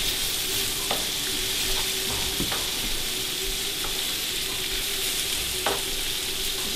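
Leeks and ginger sizzling in a pan while being stirred, a loud continuous fry hiss broken by occasional soft scrapes and clicks of the utensil.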